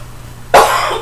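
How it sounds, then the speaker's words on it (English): A single sharp, loud cough bursts out close by after a moment of quiet, trailing off briefly. "I'm having a coughing spell"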